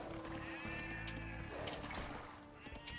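Sheep bleat in the video game Age of Empires II, faint and brief over a steady layer of game music and ambient effects, with no talking.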